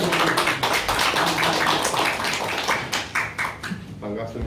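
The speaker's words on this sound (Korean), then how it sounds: "박수가" Applause at a press conference before a candidate speaks, a few seconds of dense clapping from a small group nearby, tapering off toward the end.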